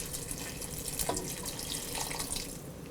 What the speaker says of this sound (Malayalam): ഞാനിതിലോട്ട് കുറച്ചുകൂടി വെള്ളം ആഡ് ചെയ്യുകയാണ്.